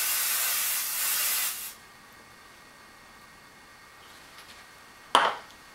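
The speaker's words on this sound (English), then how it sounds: "push your hair up and then spray this part of your hair" Hairspray from an aerosol can is sprayed onto hair in a long steady hiss, then stops; after a quiet pause a second short, sharp burst of spray follows.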